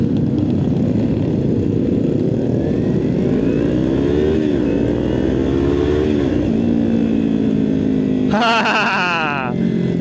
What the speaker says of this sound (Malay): Itu kelebihan motor sport bike.